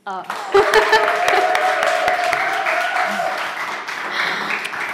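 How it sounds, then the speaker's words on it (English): An audience breaks into steady applause that carries on for several seconds, clapping filling the room at an even level. "may I ask you kindly for your hands for Thais?"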